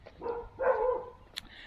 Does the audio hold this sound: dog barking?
yes